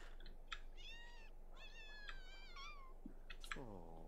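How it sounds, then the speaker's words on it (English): Kitten meowing in The Sims 2, a run of several short high mews in quick succession, some rising and falling, fairly close and clear over a quiet hum, with no talking. "Come pet the kitten."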